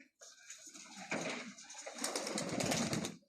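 A racing pigeon lands at a club loft in Xırdalan, with close pigeon cooing and a soft rustle of wings rising and growing louder toward the end.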